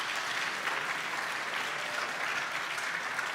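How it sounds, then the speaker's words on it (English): An audience at a summit claps steadily throughout, a dense, even patter of applause with no voices over it. "if you'd give them a round of applause to start off with"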